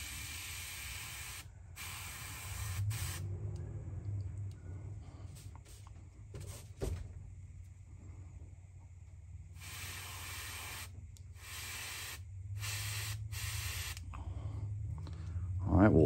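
A paint spray gun sprays black paint onto a fishing lure's eye in short repeated hissing bursts separated by quiet gaps, with a low mechanical hum underneath.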